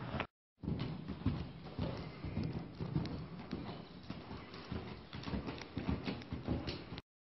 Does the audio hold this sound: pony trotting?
yes